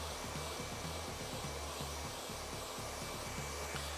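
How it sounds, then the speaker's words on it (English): Hair dryer runs on high heat at low speed to set waves in hair, a steady close whooshing roar with a faint pulsing motor hum underneath, loud and continuous with no talk. "Now you want to put your dryer on high heat and low blow."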